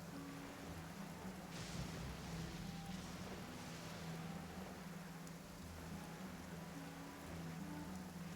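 A steady downpour falls in the game Genshin Impact, soft continuous hiss of rain across the whole stretch, quiet and even with a low ambient hum beneath.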